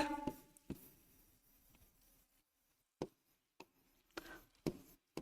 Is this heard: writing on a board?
yes